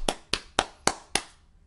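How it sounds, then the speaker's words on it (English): Five sharp, evenly spaced claps ring out close and loud, each fading quickly into a short room echo, with no talking. "Let's get a round of applause."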